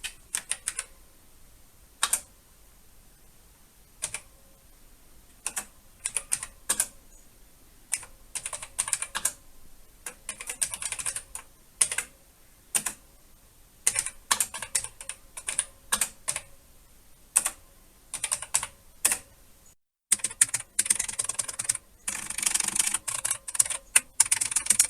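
Keys clatter on the worn, scratchy keyboard of an Amstrad CPC 464 home computer in irregular bursts of close, crisp typing, with short pauses between runs and denser, faster keystrokes near the end.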